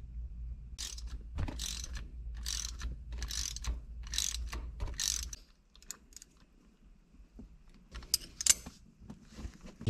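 Nylock nuts tightened with a 13 mm wrench during a Lexus GS400 manual transmission install: a series of quiet, rhythmic ratcheting clicks in bursts, close by, then sparser metallic taps.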